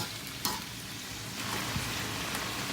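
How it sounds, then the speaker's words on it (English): Food sizzling in a pot while being stirred, a dense steady hiss of frying with a few sharp scrapes and knocks of the spoon, close and alone. "Now, I'm going to give this a stir. I'm going to stir this good old stuff up here."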